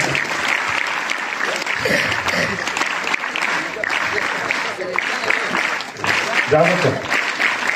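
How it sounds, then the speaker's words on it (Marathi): Audience at a school farewell function applauding to welcome the education society's secretary on his arrival, loud continuous clapping from a crowd with voices talking over it. "सर्वांनी जोरात टाळ्या वाजवून त्यांचं स्वागत करत आहे"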